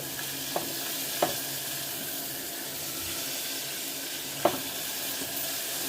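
Mushroom pulao ingredients sautéing in a pan, a constant even sizzle with a few faint utensil taps scattered through; no talking.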